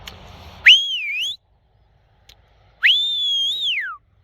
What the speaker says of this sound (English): I'll whistle him back in.